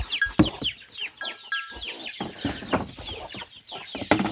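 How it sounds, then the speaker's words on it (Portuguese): Chickens cluck and squawk repeatedly at close range while being fed corn on a small farm, busy overlapping calls with a few sharper cries throughout. "Francisco Filomena, agora eu vou dar milho às galinhas."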